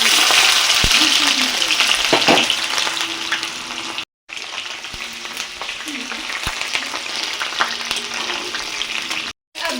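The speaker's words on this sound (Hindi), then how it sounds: "तेल गरम हो गया और अब डाल रहे हैं जख्या का तड़का" Jakhiya seeds and asafoetida tempering sizzling in hot oil, a loud, steady crackling fry close by with brief stirring clinks and a couple of short cuts to silence.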